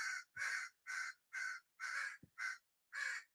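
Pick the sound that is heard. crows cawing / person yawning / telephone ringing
crows cawing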